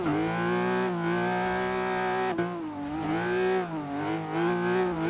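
Sustained engine drone with steady harmonic pitch that rises and dips slightly, a BMW M5 drifting in Forza Horizon 3 through a long slide; continuous and loud.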